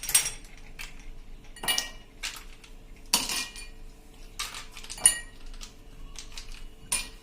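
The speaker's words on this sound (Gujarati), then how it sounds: "મેં 2 ગ્લાસ લીધા છે અને એમાં આપણે આઈસના ક્યુબ 2 પીસ નાખી દેશું" Two ice cubes clink into each of two drinking glasses being readied for a fennel and sugar syrup drink, making several sharp, bright glassy knocks at irregular intervals, close by and with no talking.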